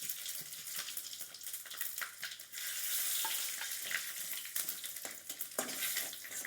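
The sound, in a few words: panch phoron and dried chillies frying in oil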